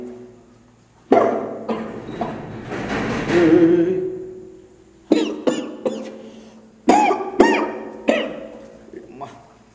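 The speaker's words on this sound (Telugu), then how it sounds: "సడన్గా ఆ రూమ్ నుంచి అది తీసినప్పటి నుంచి ఎందుకు దగ్గు స్టార్ట్ అయింది" A person coughs in several sharp, separate bursts in a quiet room, some single and some in quick pairs, with a longer rough throat sound in between.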